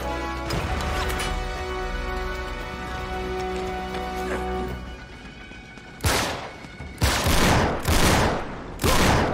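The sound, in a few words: gunfire from a sniper in the video game Uncharted 3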